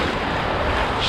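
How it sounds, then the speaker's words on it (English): Ocean surf washes in around a shallow sandbar off a rocky beach near Denmark in the South West of Western Australia, a steady, close, broadband wash of waves with wind noise on the microphone and no talk. "there's waves coming in from every angle"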